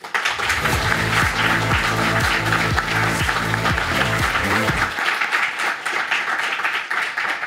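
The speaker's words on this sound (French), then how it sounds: "je vous demande un tenant d'applaudissement pour notre invité de cette partie" Applause for a guest at a French press-freedom talk event, steady clapping over a rhythmic musical beat that cuts out partway, leaving the clapping to carry on alone.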